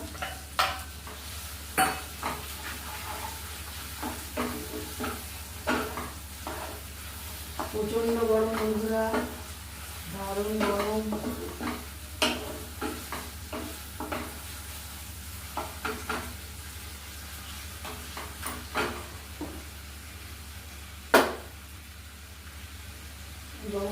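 Coarse chicken paste sizzles and fries in a pan of softened spice masala while a spoon stirs and scrapes against the metal, giving irregular clinks and one louder knock near the end.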